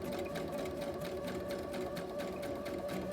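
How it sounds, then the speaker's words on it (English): Sewing machine running steadily as it sews a straight line of fabric for a bag, a constant close, even mechanical whir with rhythmic needle ticking throughout. "Go ahead and sew down a straight line, keeping it lined up with this one."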